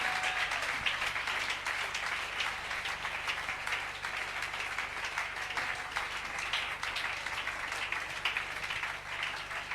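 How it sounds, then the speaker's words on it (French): A church congregation claps and applauds loudly and continuously, a dense, steady roar of many hands that lasts throughout without a break. "Acclame très, très fort."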